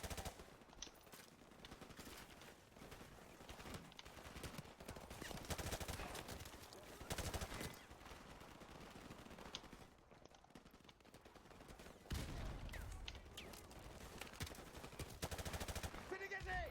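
Bursts of machine gun fire crackle through Call of Duty: Modern Warfare Remastered campaign combat, rapid volleys repeating with brief gaps, loud and dense, mixed with other battle noise.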